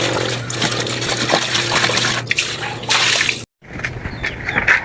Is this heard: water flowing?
yes